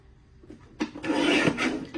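Scrapbook paper sliced on a paper trimmer, a short rasping slide of the blade across the sheet lasting about a second after a faint click.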